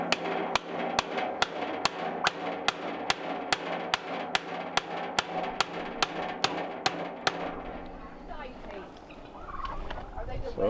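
A steel punch is hammered to drive a pin out of a pulley clutch assembly on a walk-behind David Bradley tractor, about eighteen sharp metallic strikes in a steady, quick rhythm, loud and close, then stopping and leaving a quieter rustle.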